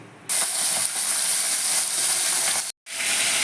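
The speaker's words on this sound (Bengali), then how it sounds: "মাছটা ভাজা হচ্ছে" Loud, steady sizzling of pomfret frying in hot oil, crackling close up, briefly cutting out near the end before resuming.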